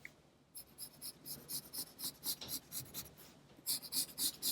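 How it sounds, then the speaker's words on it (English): A pencil scratches across paper while sketching dragon wings, a close series of quick rhythmic strokes in two bursts separated by a short pause. "I'm going to be drawing the wings going up."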